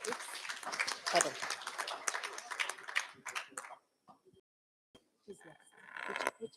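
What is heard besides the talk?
audience applause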